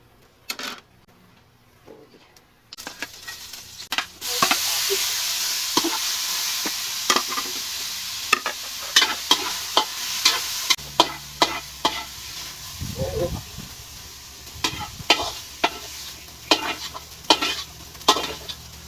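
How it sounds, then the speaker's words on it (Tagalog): Alamang (shrimp paste) sautéing in a pan, a steady sizzle under repeated sharp clinks and scrapes of a utensil stirring against the metal, close and fairly loud. "So, ngayon naman, nagigisa tayo ng alamang."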